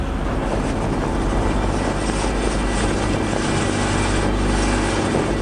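A police chopper serving a remote CRPF camp in India's Maoist-affected Sukma region, its rotor and engine droning loud and steady for the whole stretch with a rhythmic thumping texture and no speech.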